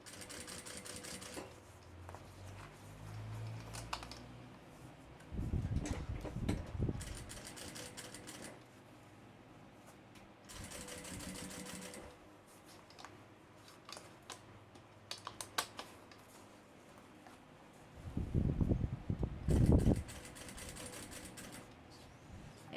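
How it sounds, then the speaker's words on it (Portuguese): Sewing machine stitching a backpack seam with a backstitch at the start, heard in short bursts of fast mechanical whirring separated by quieter pauses, fairly close and with no talk. "E vou costurar com retrocesso, ó, no início."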